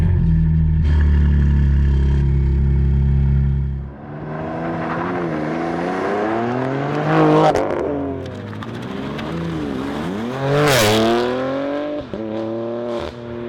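A BMW G80 M3 with a full Capristo exhaust drives on a road, a steady loud engine drone at first, then revving and shifting with rising and falling pitch sweeps and crackles through upshifts, close and continuous.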